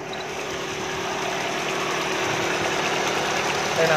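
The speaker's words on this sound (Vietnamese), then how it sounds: "Đây là máy đang hoạt động anh chị ạ" A 1999 Daewoo Matiz engine idles steadily at close range, a continuous even hum with a faint rhythmic knock running throughout and no pauses.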